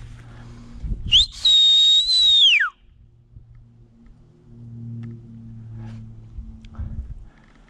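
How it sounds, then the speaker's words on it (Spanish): A single loud, clear whistle sounds outdoors on a hill trail in Quebrada de Macul, a sustained tone of about a second and a half with a falling end. Faint murmuring and low rumble come before and after it. "escuché el silbido"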